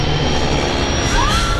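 Airliner engines drone loud and steady in a reenactment of Colgan Air Flight 3407 near Buffalo, New York, with a faint rising whine above the constant roar.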